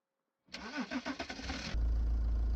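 A Tofaş Şahin car engine starts in Farming Simulator 19: after a moment of silence, the starter cranks with a rhythmic churning for about a second, then the engine catches and settles into a steady, low idle rumble.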